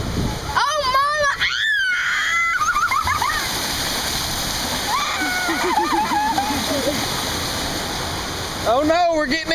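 Rushing river water in the Smoky Mountains splashes over a family, a steady loud roar under excited voices of children and adults shouting throughout.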